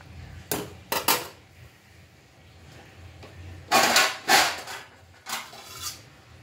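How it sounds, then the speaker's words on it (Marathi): Spoon scraping and knocking around a metal pot of food on a gas stove, several bursts of clattering stirring separated by quiet pauses. "चला तर त्याला आता हलवून आपण गॅस बंद करून देऊया"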